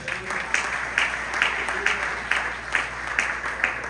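Church congregation at a family worship service applauding in a steady rhythmic pattern, claps bunching into regular accented beats over a constant room wash, moderately loud and fairly distant.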